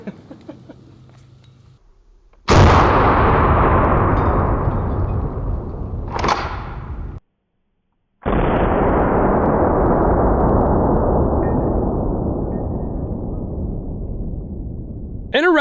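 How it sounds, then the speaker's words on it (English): A homemade exploding 12-gauge shotgun slug is fired through houses, producing loud, booming blasts with long decaying tails: one heavy report, a sharper crack soon after, a short silence, then another big blast that rumbles out slowly. "why not try one of our homemade exploding shotgun slugs and see what this"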